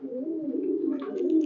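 Small Mondha pigeons, two aged birds at a Khulna high-flyer pigeon farm, give a low, steady cooing that runs close and continuous throughout, with a few faint higher chirps near the end.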